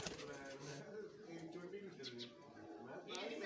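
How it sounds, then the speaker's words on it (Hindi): Pet pigeons kept by a pigeon fancier in Punjab coo softly in repeated low murmurs, with people talking over them throughout. "बहुत ही कमाल के दोस्तों ये परिंदे हैं"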